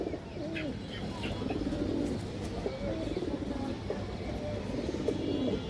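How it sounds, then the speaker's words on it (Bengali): A large female pigeon with ringed eyes coos in a pigeon market, soft repeated low cooing phrases close by over steady background noise. "এই দেখেন দর্শক বড় সাইজের একটা মাদি কবুতর।"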